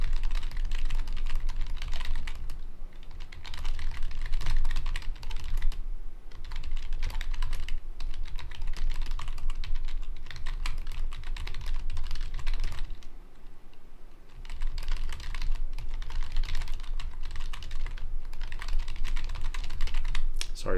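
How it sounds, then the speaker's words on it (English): Rapid typing on a computer keyboard, close and busy, with dense clusters of key clicks broken by a couple of short pauses and no speech over it. "Sorry for the typing pause."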